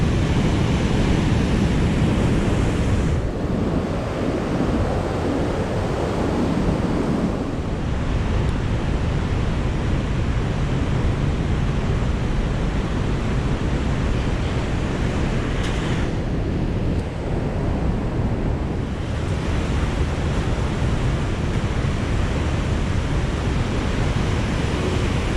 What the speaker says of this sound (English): The river is loud.